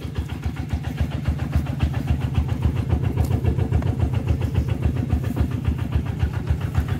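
A walking tractor's single-cylinder engine chugs close by at a fast, steady beat while hauling cassava out of a paddy field, loud and unbroken throughout.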